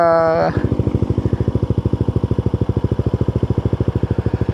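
Yamaha Nmax Techmax scooter with stock engine and CVT idles through a 4S1M Street Core V3 aftermarket muffler, a loud, close, steady low putter of rapid even exhaust pulses following a brief tonal sound at the start.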